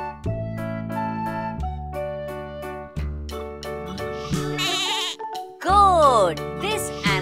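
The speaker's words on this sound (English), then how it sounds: "This animal is called goat." Bleating from a domestic goat on a farm, several drawn-out wavering calls over a steady musical backing with repeated beats, loud and close.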